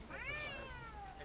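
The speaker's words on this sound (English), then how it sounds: "Such a little meow." A single soft, drawn-out cat meow rises and falls in pitch, quiet and close.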